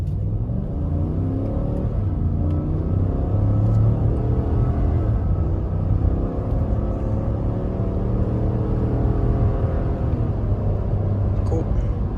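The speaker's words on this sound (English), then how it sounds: "here's an approximately 7/8 throttle clip 0 to 60" A 2017 Cadillac Escalade Platinum pulling from 0 to 60 at about seven-eighths throttle, its engine note a steady low drone that climbs gradually through the run, heard from inside the cabin, with voices talking over it.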